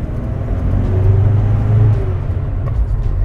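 A car engine hums and rumbles close by, rising briefly in pitch as it speeds up, then easing back to a steady drone.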